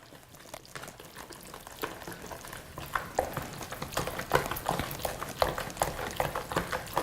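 Wet and dry ingredients for a pie filling being stirred together in a bowl, faint soft sloshing and irregular tapping strokes of a utensil, growing slightly busier, with no talk.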